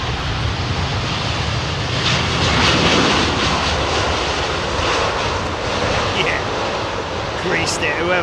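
An airliner landing in strong wind at London Heathrow Airport, its engines a steady loud roar with heavy wind buffeting, the jet noise swelling and holding near throughout, with brief higher whines near the end.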